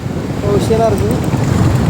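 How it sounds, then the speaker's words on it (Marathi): Loud, steady wind rushing across the microphone with a brief faint voice in the middle. "काय सुंदर वारा आलो, मस्त वारा उलाला"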